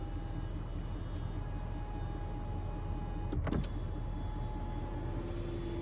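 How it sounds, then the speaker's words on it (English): Power tilt and sliding sunroof of a 2021 Chevrolet Silverado 2500HD LTZ Carhartt, a brief electric motor whir in a quiet cabin over a low steady hum. "Then you also have the power tilt and sliding sunroof on this one."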